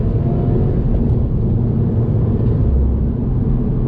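A 2020 Subaru WRX pulling on throttle in second gear, a steady low engine rumble heard from inside the cabin, muffled and constant with no talk.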